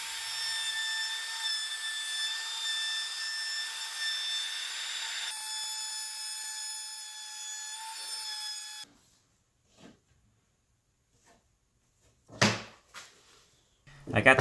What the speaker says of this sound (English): I cut this much out on the table saw, and now I'm going to clean it up with the router